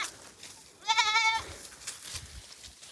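A single wavering goat bleat rises clearly over quiet background noise, followed by faint rustling.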